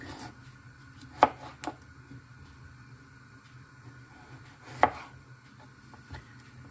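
A knife cuts through boiled potatoes on a board, slicing them about a centimetre thick; two sharp, close chops land a few seconds apart, each followed by a softer tap, over quiet kitchen background.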